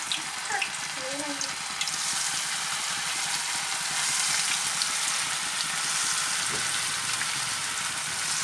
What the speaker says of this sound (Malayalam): എണ്ണ ചൂടായി കഴിയുമ്പോൾ റിങ്സ് ഓരോന്നായിട്ട് ഇട്ട് കൊടുക്കുക.